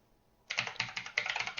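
Rapid keyboard typing starts after a brief quiet, with clustered clicky keystrokes in an uneven rhythm, close and fairly clear.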